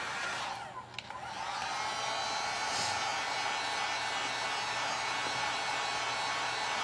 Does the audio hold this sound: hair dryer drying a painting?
yes